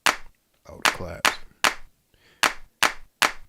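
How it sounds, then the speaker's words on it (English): Clap samples played on a Torso T1 sequencer with a Polyend Play, sounding as sharp, evenly spaced electronic hand claps, seven hits in a steady pattern with a brief voice between two of them. "I could work with some claps."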